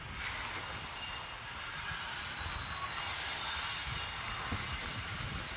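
Train wheels squeal and hiss as the Tirunelveli–Thoothukudi passenger train takes a loop line into a junction station. Steady rolling rumble under high, sustained metallic screeching, heard from inside the coaches with no talk.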